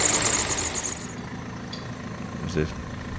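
A 2014 VW Touareg V6 with a low fuel-pressure fault idles steadily up close, a dense mechanical hum with a faint high whine in the first second and a brief clunk near the end.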